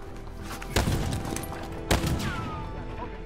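Two sharp gunshot bursts from a team-based video game firefight, each a heavy crack with a brief echoing tail, rising over a steady background of game ambience.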